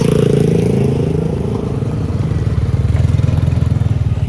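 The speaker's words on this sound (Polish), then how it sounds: "jedzie tutaj mój pick-up" A pick-up truck pulls up near a market in Buon Ma Thuot, its engine a close, loud, pulsing low rumble that grows into a steady rhythmic idle-like throb.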